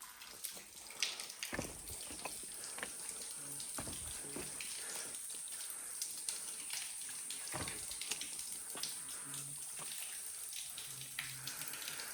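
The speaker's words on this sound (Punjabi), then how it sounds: "ਆ ਪਾਣੀ ਭਰਾਂਗੇ ਆਪਾਂ ਇਹ ਪੀਣ ਵਾਲਾ ਪਾਣੀ ਆ ਝਰਨੇ ਚੋਂ ਆਉਂਦਾ" Water from a waterfall stream being collected for drinking at an old hillside fort, a steady close splashing and gushing that runs throughout with occasional handling knocks.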